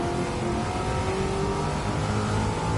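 A De Tomaso Pantera engine in Gran Turismo 7 revs loudly and continuously, its rough mechanical growl holding steady and close throughout.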